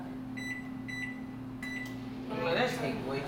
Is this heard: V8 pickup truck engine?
no